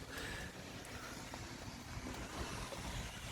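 Steady rain-like hiss with gusts of wind buffeting the microphone, continuous and fairly loud throughout, with faint water lapping underneath.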